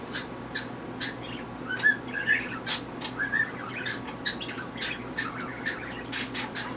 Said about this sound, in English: That's a cockatiel, by the way, if you can hear him in the background.